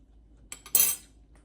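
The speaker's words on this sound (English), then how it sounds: "Let's just taste the pudding, the bread pudding by itself" Brioche bread pudding being eaten with cutlery: a couple of light metallic taps, then a brief louder scrape of a utensil against a dish, close and alone in a quiet room.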